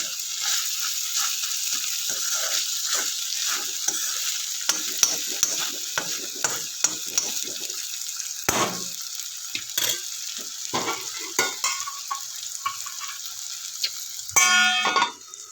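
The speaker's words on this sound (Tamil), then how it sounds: "அடி பிடிக்காமல் நடுவில் கிண்டி விடுங்க" A Kerala vegetable dish cooking in a pan, stirred with a spoon that scrapes and clinks against the metal over a constant bright sizzle, close, ending in a sharper ringing clang.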